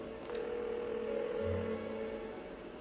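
Telephone dialing in the Persona 4 video game: a couple of brief key tones followed by steady electronic ringing tones, clear and alone with no talk.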